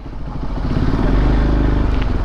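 A motorcycle carrying two riders, heard near a temple, its engine running with a loud, low, throbbing rumble that builds slightly and holds steady, with wind and rattle mixed in.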